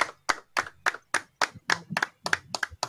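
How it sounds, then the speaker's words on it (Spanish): Applause for a football substitution in a stadium, heard as close, distinct rhythmic hand claps, about ten sharp claps in steady succession rather than a broad crowd wash. "Se vienen los aplausos."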